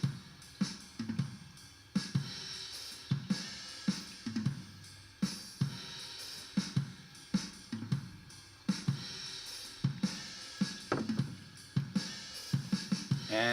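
Drum kit playing a pattern in shifting odd time signatures, with punchy kick and snare hits under steady cymbals in an uneven repeating groove, fairly quiet and alone with no voices.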